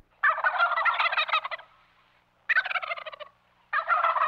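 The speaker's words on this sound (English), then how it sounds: "Arizona is home to two species of turkeys, the Miriams and the Goulds." A wild turkey, Merriam's or Gould's, from Arizona's desert mountains gobbles in three loud, rapid rattling bursts separated by short pauses, heard clearly on its own.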